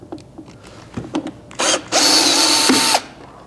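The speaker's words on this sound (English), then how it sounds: "So I'm going to go ahead and remove this screw" A power driver whirs as a screw is backed out of a Roland Micro Cube guitar amp, first a brief burst and then a loud steady spin of about a second, after a few light clicks and handling taps.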